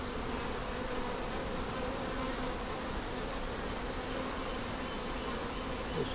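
Honey bees in an opened hive give off a steady, soft buzzing drone that continues evenly and close by, with no talking.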